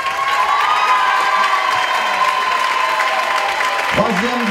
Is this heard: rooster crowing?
no